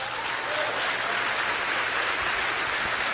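Dense, sustained applause from a church congregation during a sermon, many hands clapping together in a loud, even roar that fills the whole stretch without pause.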